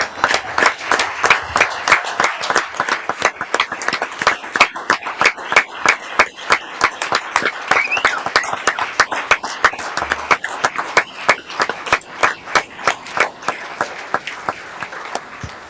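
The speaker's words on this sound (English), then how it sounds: "I would just like us to give Dexter another standing round of applause" A county council meeting audience gives a standing round of applause, with sustained, fairly loud clapping from many hands continuing steadily throughout without speech.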